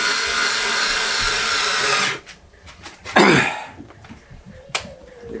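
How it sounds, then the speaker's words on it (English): Power drill driving screws into a guitar fingerboard on a DIY bowed cellotar, a loud steady whirring for about two seconds, then quieter handling knocks and a short scrape. "Gotta be careful not overdo screwing these things in, because they will affect the curvature of the fingerboard."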